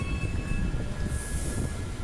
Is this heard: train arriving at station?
yes